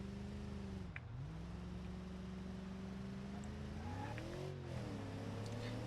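An American-style sheriff police car weighing over two tonnes in BeamNG Drive, its engine droning steadily and rising in pitch as it accelerates, dipping briefly between gear shifts, with no talking.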